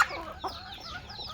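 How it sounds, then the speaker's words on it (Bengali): A big rooster on a free-range country-chicken farm gives a short, nearby call, a brief throaty vocal burst over faint farmyard background. "দেখুন কীরকম ডাকতেছে মোরগ, বিগ সাইজের মোরগ"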